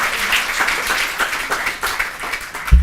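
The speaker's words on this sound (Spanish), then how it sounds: "un fuerte aplauso para ella" Loud, close audience applause at a masterclass event, a dense patter of many hands clapping steadily for a few seconds with no talk over it.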